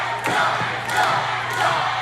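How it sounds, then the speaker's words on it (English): A wrestling crowd at the Davis Arena chants in rising, rhythmic swells during an OVW show, a loud mass of voices filling the hall with a few thuds beneath. "You hear the crowd chanting for a chop."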